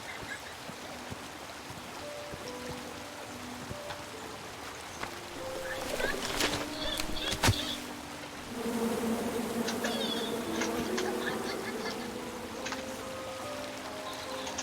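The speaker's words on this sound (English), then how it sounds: "you chop down the tree full of angry bees?" Angry bees from a tree in the King's Quest video game buzz steadily in the game's ambience, a continuous droning hum that swells in the middle and stays moderately loud throughout, with no talk.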